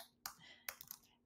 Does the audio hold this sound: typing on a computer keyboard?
yes